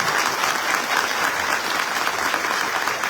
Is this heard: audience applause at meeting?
yes